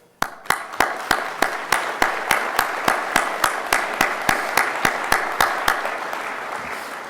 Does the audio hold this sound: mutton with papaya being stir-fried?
no